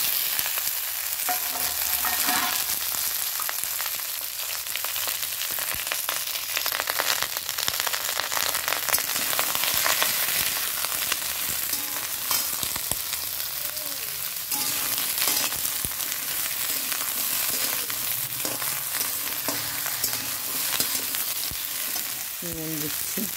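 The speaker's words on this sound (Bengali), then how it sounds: "আর এই যে নিরামিষি তরকারিটা দিয়ে দিচ্ছি।" Vegetable curry sizzling loudly in hot oil seasoned with panch phoron and a dried chili, a dense, continuous frying hiss with stirring scrapes running throughout, close and unbroken, no voices.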